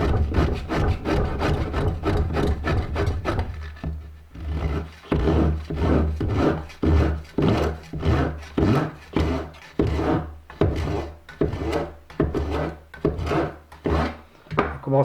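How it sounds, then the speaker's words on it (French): Overhanging wood veneer trimmed flush along the edges of a small wooden box with a hand tool, giving steady repeated rasping strokes in a regular back-and-forth rhythm, close and fairly loud, with no talking. "Donc ici on va procéder à l'arasement des plaquages qui dépassent."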